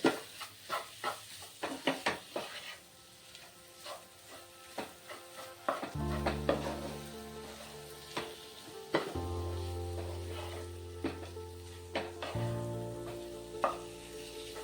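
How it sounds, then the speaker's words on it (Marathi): Prawns are stir-fried into a bhurji, with a soft sizzle and a series of spatula taps and scrapes on the pan, partly under background music in the second half. "आणि आता हे सगळं छान शिजवून घेते मस्त प्रॉन्स आपले."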